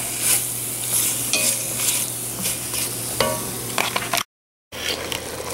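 Beef browning in a stew pot sizzles steadily, broken by scraping and stirring clatters from a utensil, then a brief dropout before the frying resumes.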